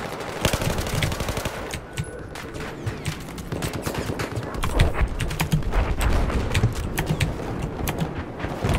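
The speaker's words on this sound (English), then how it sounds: "I'm being shot from D." Battlefield 4 gunfire: rapid, loud automatic bursts and scattered single shots crackle almost nonstop, with a few deeper thuds from farther off.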